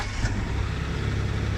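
Vehicle engines, including a truck beside a DIY camper van on the Dalton Highway, run at a steady idle outdoors, a low, even hum at moderate distance with no voices.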